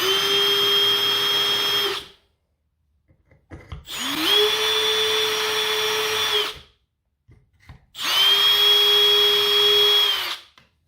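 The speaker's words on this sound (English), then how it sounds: "drill the rest of the holes a little bit." A power drill with a 9/64 bit runs in three bursts of about two seconds each, whining at a steady pitch, separated by short pauses.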